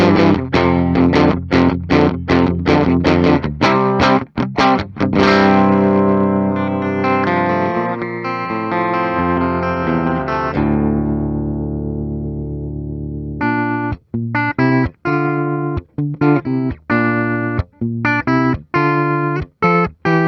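A Gibson 1954 Les Paul Standard electric guitar tuned down to D plays loud, dark distorted chords and riffs, with one long ringing chord fading before choppy rhythmic strumming resumes.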